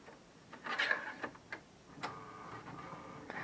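HP printer printing a page, quiet mechanical ticking, whirring and clicks from the carriage in an irregular sequence, close but faint, no talking.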